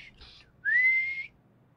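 A game character whistles with the mouth in the Polda detective adventure: a short faint chirp, then a clear, loud rising whistle held for about half a second, alone with no talk.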